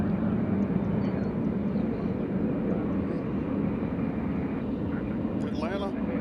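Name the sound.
Southwest Airlines airliner at Nashville airport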